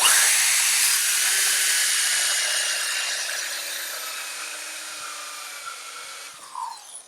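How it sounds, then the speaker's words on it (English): A 1.5-inch hole saw with a starter bit cutting into a wooden crate board, giving a continuous loud high whining grind that slowly fades over several seconds and ends with a brief shift as it slows. "I drill about halfway"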